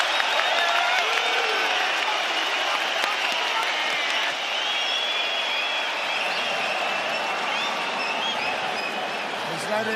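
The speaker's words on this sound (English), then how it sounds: "Have you ever heard a crowd like this?" A packed UFC arena crowd roars through the closing seconds of round three of a title fight between Rodriguez and Emmett, a loud, sustained wash of cheering and clapping with commentators talking over it.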